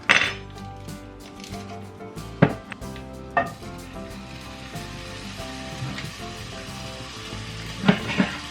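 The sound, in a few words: pork sausage frying on the stovetop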